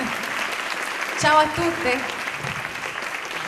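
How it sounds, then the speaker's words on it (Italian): Audience applause at the 2013 Premio Bellini event, from a crowd made up mostly of women, forms a steady wash of clapping throughout while a voice briefly speaks over it. "E allora le salutiamo, grande applauso, eccole lì"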